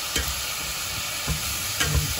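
Chopped bottle gourd stir-fried with MSG seasoning in a hot pan, a constant sizzle broken by a few scraping strokes of a spatula or spoon against the pan, close and clear with no talking.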